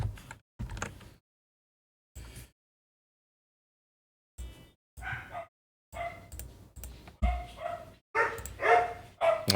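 A dog barks in short separate bursts, a couple early on, then a gap of silence before a quicker run of louder barks toward the end, fairly close and with nothing else heard.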